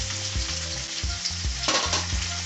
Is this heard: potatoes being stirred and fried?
yes